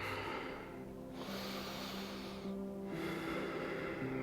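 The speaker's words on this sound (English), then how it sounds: "begin nice, long, deep breathing" Slow, deep breaths during a Kundalini yoga exercise, heard up close as long airy inhales and exhales, two full cycles over a faint steady background tone, with no talking.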